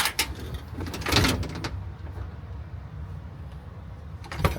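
A house front door is opened, with a few sharp clunks and rattles near the start, a louder scrape around the middle, then quieter room noise and a final small knock at the end.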